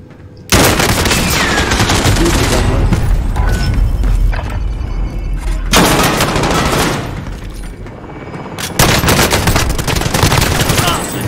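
M4A1 rifle gunfire in Call of Duty Warzone: loud bursts of automatic shots in several long volleys separated by brief pauses, close and dominant, with mechanical clatter between bursts.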